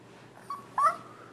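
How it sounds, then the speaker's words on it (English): A dog gives two short, faint yips or whimpers, one brief and the next slightly louder, in an otherwise quiet room. "What does a doggy say?"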